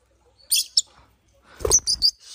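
A frightened young pet bird squawks up close in two sharp bursts of harsh, high chirps separated by a brief pause.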